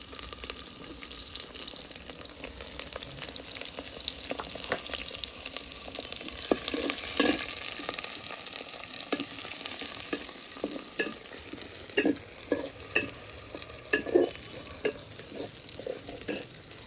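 Onion and whole garlic with cardamom, cinnamon and salt frying in a pan for khichuri, a steady sizzle with repeated stirring scrapes and clatters throughout, close and moderately loud, no voices.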